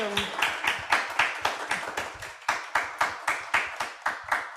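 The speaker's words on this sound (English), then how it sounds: "Thank you. Round of applause." A small audience claps after a panel discussion, the hands striking in a regular, evenly spaced rhythm. The claps are clear, close and moderately loud.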